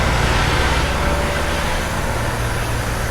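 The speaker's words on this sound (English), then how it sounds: "Super loud over here, all the buses are idling" Buses idling on a New York City street near the Javits Center: a steady, loud, low diesel rumble and drone that runs unbroken throughout, with traffic noise mixed in and no talking.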